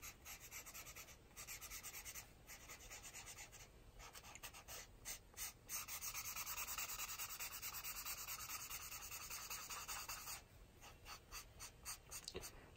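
The chisel tip of an alcohol marker in Fog Gray colours over paper in a close, steady scratchy rubbing with brief breaks between passes.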